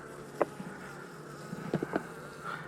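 Honeybees at a small hive during a winter feeding hum in a soft, steady drone, with a few brief louder buzzes as bees fly close by.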